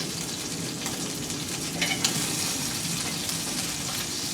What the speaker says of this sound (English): right here you can hear that sizzle.